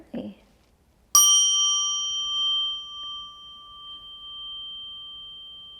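A chime struck once for a mindful listening exercise rings out clearly and sustains with a long, slowly fading tone; a brief voice is heard just before the strike.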